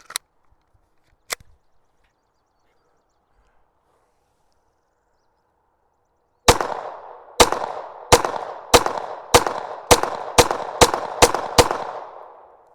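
Ten pistol rounds from a Sig P320 or Glock 44 fired in a steady, fairly quick string, each sharp loud crack ringing out briefly, preceded by two isolated metallic clicks of the action during a function check.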